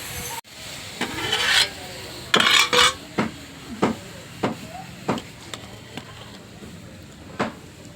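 Rice tipped into a pot of boiling water over a wood fire, with a series of sharp metallic clinks and scrapes from the pot and utensils, irregularly spaced over a soft background hiss.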